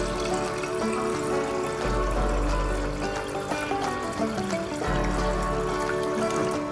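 Water is poured into a pot for chicken soup, a steady trickling and splashing stream that keeps flowing throughout, with low thumps near the start and partway through.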